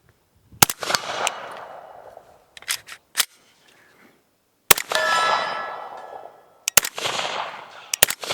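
Several loud, sharp gunshots from an AR rifle, spaced irregularly with pauses between, close and ringing, some followed by metallic clatter, no talk.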